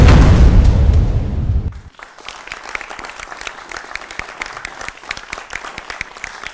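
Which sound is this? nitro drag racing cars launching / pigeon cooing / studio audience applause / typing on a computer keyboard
studio audience applause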